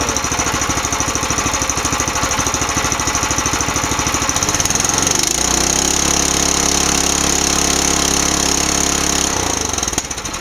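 A small model glow engine whose throttle is worked by servos runs with a fast, even buzzing chatter, then drops to a lower, steady idle drone partway through, close and loud throughout.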